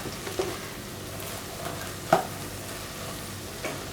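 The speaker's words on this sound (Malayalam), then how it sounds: "ഉപ്പിട്ട് നല്ലപോലെ കൂടെ ഇളക്കുക." A spoon stirs kovakka thoran (ivy gourd stir-fry) with salt in a pan, making soft scraping and faint sizzling with a few sharper clinks of the spoon against the pan, quiet and close.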